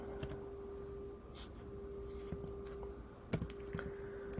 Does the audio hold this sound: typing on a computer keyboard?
yes